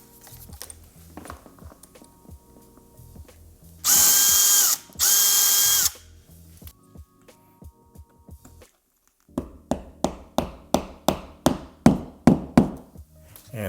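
A screw being driven into a drywall anchor in a wall: a few soft taps, then two loud one-second bursts of a power driver, followed after a pause by a quick series of sharp, rhythmic ratcheting clicks.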